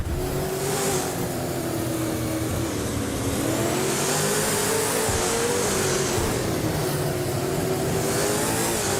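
A 2015 Ford Falcon FGX V8 supercar in a racing game, its engine droning loud and steady with rising and falling revs as it drives on without pause.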